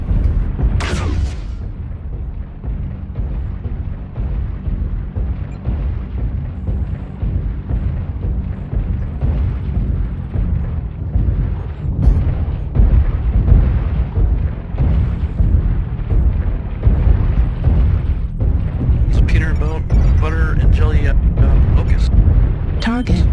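Artillery strike explosions in the video game MechWarrior Online: a dense, continuous rumble of booms and blasts runs throughout, steady and loud, with voices talking over it.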